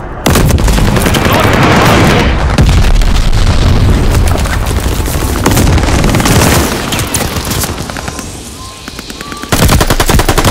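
A bomb explodes amid heavy gunfire during a Hardpoint match on the Shipment map in the Call of Duty Vanguard video game. Loud booms and rapid machine-gun bursts pile up with no break for the whole stretch.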